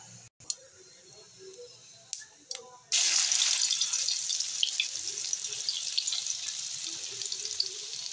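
Cumin seeds crackling and sizzling in hot oil while tempering for a mushroom and baby corn curry, a sudden onset of dense, steady close-up sizzle and popping after a few soft clicks and knocks.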